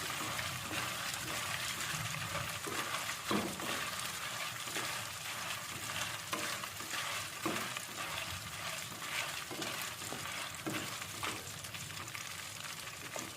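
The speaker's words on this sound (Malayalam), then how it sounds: "ഇതിൻ്റെ പൊട്ടലൊക്കെ ഇങ്ങനെ പോയിട്ടേ വെള്ളത്തിൻ്റെ പൊട്ടലും പോയി ശബ്ദമൊക്കെ ഒന്ന് പോയി കഴിഞ്ഞിട്ടുണ്ടെങ്കിൽ" Pieces of jackfruit sizzle in hot oil, a continuous bubbling hiss broken by frequent sharp pops and crackles, close up with no talking.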